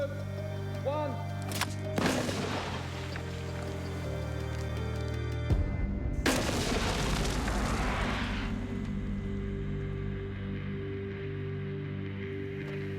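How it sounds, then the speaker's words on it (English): Mortar-type launcher firing a grapnel and rope up a cliff face, two sharp booming blasts a few seconds apart, each followed by a rushing roar that fades out, heard in the open. "this one fires the grapnel and rope over 150 feet up the cliffs"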